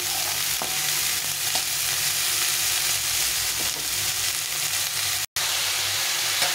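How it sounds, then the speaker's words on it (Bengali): Pointed gourd and ridge gourd frying in a pan, a loud continuous sizzle and crackle with faint stirring taps, steady throughout and close up, with no voices. "এই দুটো দিয়ে ভালো করে নিয়ে নেব। একদম ভাজা ভাজা করে নেব সবজিটাকে।"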